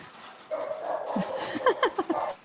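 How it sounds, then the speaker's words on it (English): A pet dog barks in a short burst of sharp, close yelps indoors, set off by a car outside in a parking lot, with several quick barks bunched toward the end. "my dog started barking because he heard that"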